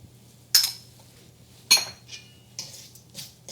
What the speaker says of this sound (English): And I'm still going to stir this in with my fork.